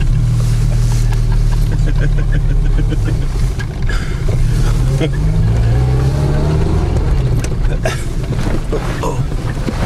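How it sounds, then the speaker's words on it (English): A front-wheel-drive car off-roading in a field, its engine droning and shifting under bumps, wind buffeting and rattling close by, with people talking over it. "I'm totally off-roading in Australia."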